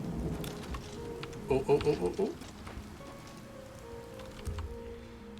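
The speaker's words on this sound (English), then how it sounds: "Why are we standing out in the rain" Rain falls in the game Oblivion Remastered as a steady, soft patter spread through the background, with a short burst of game voices and sounds in the middle and a voice briefly in the clip.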